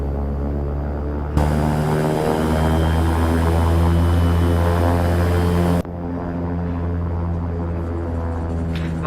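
A WestJet airliner departs in the X-Plane 12 flight simulator, with a steady droning engine roar that swells louder for a few seconds and then drops back to a lower, even hum.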